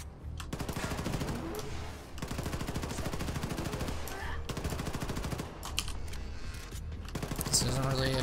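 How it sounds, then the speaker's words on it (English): Rapid SMG bursts in Wolfenstein 2, long loud rattling strings of shots separated by short pauses, close and dominant with game sounds between bursts. "This isn't really a job for an SMG"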